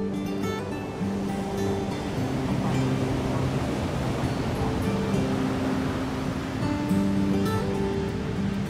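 Ocean surf breaks along the Basque coast at Biarritz in a steady, roaring wash of waves, with faint sustained tones underneath.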